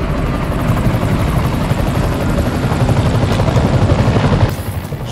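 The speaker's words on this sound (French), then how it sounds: "Je vous l'avais dit pour l'hélicoptère" Loud, close helicopter rotor chopping in the Spider-Man video game, a steady rapid thudding with engine whine that holds for the whole stretch.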